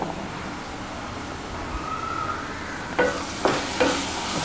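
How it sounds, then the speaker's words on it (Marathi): Spices such as cumin, coriander powder and turmeric frying in hot oil, giving a steady soft sizzle with a few sharp stirring scrapes near the end, no talk. "सुरुवातीला आपण थोडेफार घातले आहेत ते असं मस्त तेलामध्ये फ्राय करून घेऊ"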